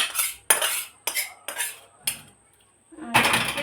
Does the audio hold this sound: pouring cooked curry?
yes